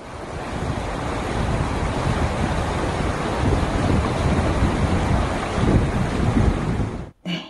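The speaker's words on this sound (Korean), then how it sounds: "제가 산책하는 경안천의 물소리인데요" The Gyeongancheon stream rushes and gurgles in a dense, continuous wash, loud and close, with a blustery roar of wind buffeting the microphone, before the sound cuts off abruptly near the end.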